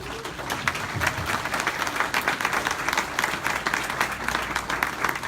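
A crowd at the 2019 Top Teachers Awards applauds the teacher award winners, a steady, moderately loud round of many hands clapping with no speech.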